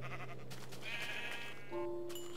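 A sheep in the Minecraft Tekkit modpack bleats a single wavering cry near the end, faint and close, over soft background game music.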